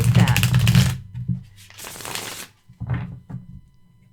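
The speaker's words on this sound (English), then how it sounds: "Absolutely stunning ability to shuffle these cards." A Unicorn's Journey tarot deck is riffle-shuffled by hand in several quick papery bursts of flicking cards, separated by short pauses, with a voice speaking between them.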